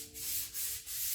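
Rhythmic back-and-forth sanding strokes on body filler on a Toyota Celica RA29 rasp close by, three or four passes in a steady scraping rhythm with no voices.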